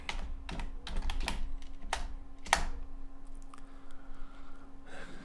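Someone types the folder name "images" on a computer keyboard, producing quick clusters of sharp keystrokes separated by short pauses, then a softer tap or two near the end, all close against a low steady hum.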